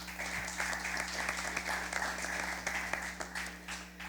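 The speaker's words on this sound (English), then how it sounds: "you can give her a round of applause" An audience applauds for the judge at a junior science quiz in Antigua and Barbuda, a steady, moderately faint round of clapping over a low hum.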